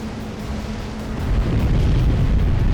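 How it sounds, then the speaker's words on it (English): Heavy artillery explosions and booming shell impacts from a 4v4 Supreme Commander: Forged Alliance battle on Setons, with Tech 3 battleships in play; a continuous loud rumbling barrage that swells and grows denser partway through. "Squeegee now still going defensive with his artillery. I mean, look how quick he can just annihilate."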